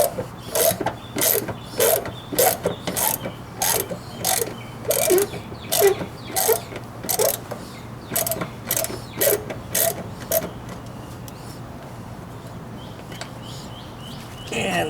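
A ratchet with a quarter-inch socket and a number 2 Phillips tip drives screws while removing a 2017 Honda Civic hatchback front bumper, giving a long run of evenly spaced clicking bursts that stop partway, with faint birds outdoors.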